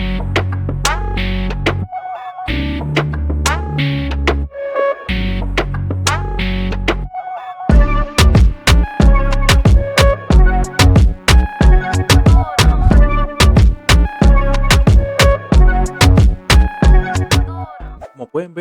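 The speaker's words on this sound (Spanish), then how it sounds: "este segundo beat la verdad es que es un beat que está súper perreoso" A reggaeton perreo instrumental beat plays loud and clear, opening with a sparse bass-heavy pattern with short breaks before a busier driving rhythm of punchy percussion kicks in over the bass.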